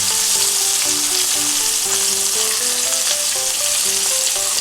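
Swordfish and onions fry slowly over low heat in a pan, giving a close, even, continuous sizzle with no talk, under light background music.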